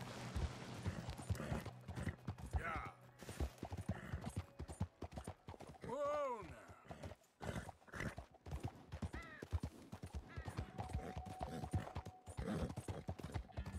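Horse hooves clip-clopping in a steady rhythm in the video game Red Dead Redemption 2, with a horse whinnying midway and some speech in the background.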